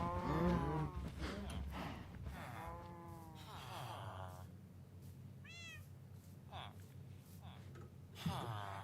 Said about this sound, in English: There's some more baby cows.